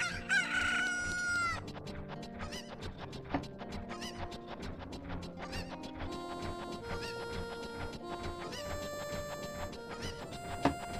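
Chickens in the Ocarina of Time game, with a rooster crowing near the start over a steady bed of game music, then repeated short clucks scattered through the rest.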